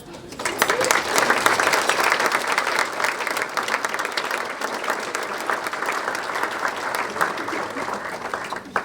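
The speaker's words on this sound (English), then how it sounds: "please stand while we show recognition and appreciation of your efforts with a round of applause." At a chamber of commerce annual dinner, a room full of people claps steadily, a dense patter of hands that swells quickly and holds for several seconds.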